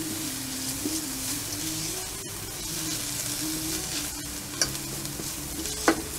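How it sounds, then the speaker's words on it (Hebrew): A spoon stirs spices sizzling in oil in a frying pan for shakshuka, a close, steady frying hiss with soft scraping strokes and a few light clinks against the pan. "אני מערבבת כדי שהתבלינים יפתחו."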